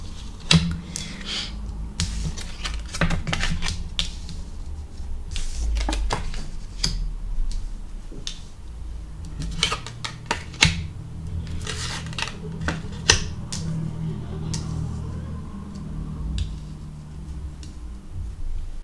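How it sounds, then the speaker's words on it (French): Tarot cards being turned over one after another on a table, a run of crisp flicks and light taps at an irregular pace, close and fairly clear. "Je vais toutes les retourner en fait"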